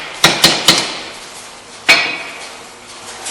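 A hard tool taps the rear strut bolt of a 2008–2013 Toyota Highlander into place: three quick metallic knocks, a pause, then one more ringing tap, close and alone.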